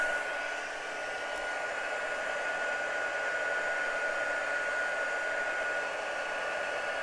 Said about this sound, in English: Get the right heat gun.